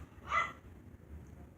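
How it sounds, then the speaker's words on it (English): Pet dogs bark from the back of the house: one short, muffled yelp, faint and distant, over a low steady room hum, with no talking. "My dogs are trying to get my attention from the back."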